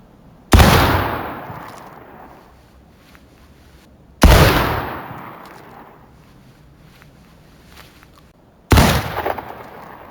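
Three loud Pattern Enfield 1853 rifle shots fired at long range in the Civil War game War of Rights, each a sharp blast trailing into a long echoing decay, spaced about four seconds apart.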